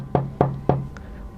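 Three firm, evenly spaced knocks on a door sound close and hollow, followed by a faint trailing tap, with no talk over them.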